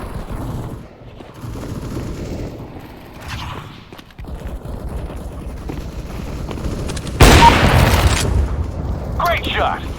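Gunfire in Counter-Strike: Global Offensive team deathmatch on De Dust 2, a loud burst of shots and booms erupting late, over a busy game soundscape with an in-game voice speaking.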